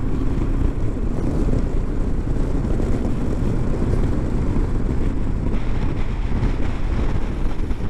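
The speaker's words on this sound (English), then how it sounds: "Oh, there's a bit of a side wind there." Side wind rushing over a rider on a Honda 500X motorcycle, a loud, steady roar with engine and road noise blended in, constant throughout without breaks.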